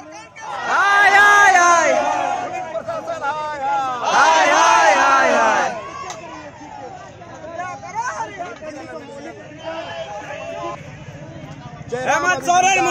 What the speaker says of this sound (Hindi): देख रहे हैं आप लोग इतना सारा भीड़।